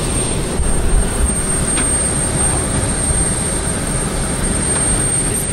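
A steady, loud engine drone fills the cabin of a very large passenger airplane departing Uganda, a constant broad roar with a faint high whine and no talking.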